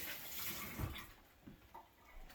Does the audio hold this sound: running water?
yes